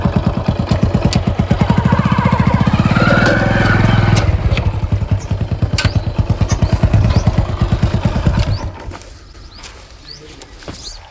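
A motorcycle engine runs close by in a village, a loud, steady idling putter that cuts off about three quarters of the way through, leaving quieter background sound.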